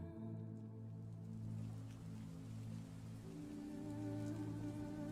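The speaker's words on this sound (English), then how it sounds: "you guys start to hear the raindrops and the thunder outside as it begins to rain" Rain sound effect plays during a tabletop role-playing session: a soft, steady patter of raindrops under a low, sustained droning ambience, quiet and continuous with no clear thunderclap.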